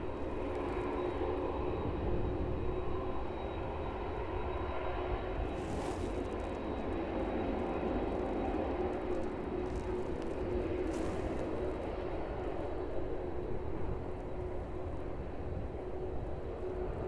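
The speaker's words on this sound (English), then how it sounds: "And Ryanair lining up on a runway 27, that one on the centre line now, awaiting takeoff clearance." A Ryanair airliner sits lined up on runway 27 awaiting takeoff, its jet engines idling in a continuous, fairly distant rumble and whine, with no talk.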